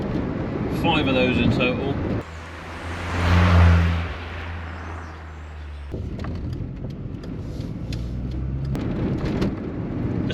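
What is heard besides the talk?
Rover 100 Metro car driving, shifting into top gear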